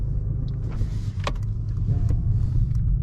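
A 2021 Mercedes S-Class AMG Line pulls away at night, heard from inside the cabin as a low, steady engine and road rumble with a few faint clicks and no talking.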